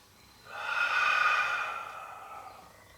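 One long, breathy exhale swells and fades over a couple of seconds during a Pilates breathing exercise, close and fairly loud with no speech.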